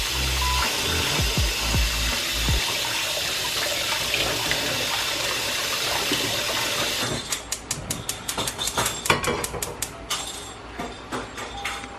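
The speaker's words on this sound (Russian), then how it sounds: "мы моем холодной водой рисовые клёцки" Korean rice cakes for tteok mandu guk soup being rinsed under cold running tap water: a steady, close rush of water that turns into choppy splashing and crackling bursts in the second half, with no voices.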